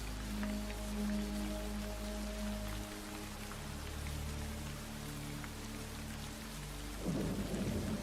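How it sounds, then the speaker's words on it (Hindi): Steady rain and deep rolling thunder form a sound effect for a night-time horror story. The rumble is continuous, with a fresh surge near the end, and no voice is heard. "जब मैं आगे बढ़ रहा था तभी हल्की हल्की वर्षा शुरू हो गई।"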